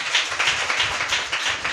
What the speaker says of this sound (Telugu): దేవుడు నాతో మాట్లాడుతున్నవారు అన్నవారు చప్పట్లు కొట్టండి